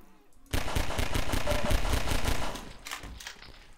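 Gunfire in Half-Life 2 as zombies are shot in the head, a sudden burst of rapid repeated shots lasting about two seconds, then a few scattered shots trailing off.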